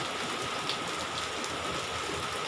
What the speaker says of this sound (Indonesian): Hujannya makin gede.